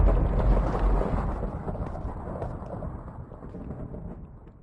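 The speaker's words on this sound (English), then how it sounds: "That's thunder." A long rolling rumble of Minecraft thunder, loud at first and slowly fading away over several seconds with no voices present.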